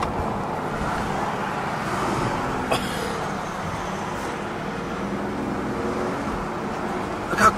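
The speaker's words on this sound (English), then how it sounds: "It's way more quiet than it was stock when the valves are closed." Mercedes-AMG C217 S65 Coupe V12 with catless Fi valvetronic exhaust idling with the valves closed, a steady low rumble and hum with no talking, a soft tick near the end.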